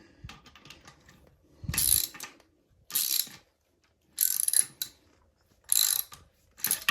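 A hand ratchet cranks a 13/16 socket on a 2000 Dodge Neon during an engine rebuild, giving close, loud bursts of rapid clicking in five separate pulls with brief quiet gaps between them.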